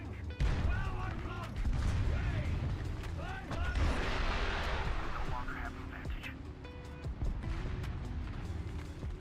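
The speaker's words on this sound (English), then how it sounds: "These missiles are so slow, dude." Missiles launch in a combat video game with a slow-flying weapon, heavy booming fire and rumbling explosions layered with mechanical noise, continuous and loud throughout, with voices and game chatter mixed in.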